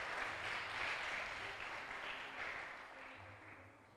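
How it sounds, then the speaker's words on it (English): Audience applause at a school essay, oratory, poster and performing arts competition award ceremony, a steady wash of clapping from many hands filling the room for several seconds, slowly tapering toward the end. "give all of them a round of applause"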